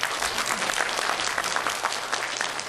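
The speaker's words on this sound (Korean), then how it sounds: "이럴 때 박수도 한번 주십시오" An audience at a Rotary district gathering breaks into applause, a dense, even wash of many hands clapping at once that holds steady throughout the short stretch.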